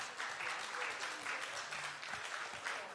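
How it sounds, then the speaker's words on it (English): Steady applause from a conference audience fills the space, dense and sustained, with a faint voice beneath it. "Give him a round of applause"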